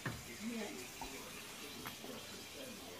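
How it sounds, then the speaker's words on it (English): Water runs and splashes into a container, a steady faint pour with a few clinks near the start. "Adding water."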